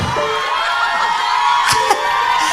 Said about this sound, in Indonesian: tepuk tangan untuk Jirayut.